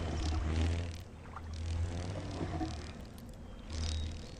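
Beetle creature sound from a wooden eye beside a rock pool in the game Riven, a faint low droning and whirring buzz that swells and fades in slow waves, quiet and even throughout.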